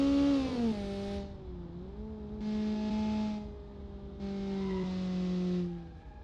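High-revving car engine in BeamNG, the Kiev Motors 14, holding a loud harmonic whine that dips and climbs as it shifts, with surges of tire noise, alone and close.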